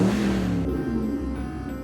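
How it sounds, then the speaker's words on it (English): A truck engine rumbles up close and loud, then its tone drops and settles as it slows, with no voices. "Sounds like my truck."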